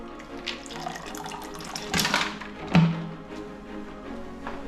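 Cold water splashes and trickles into a vessel in a couple of brief pours while making ghee from butter, moderately close, with faint background noise.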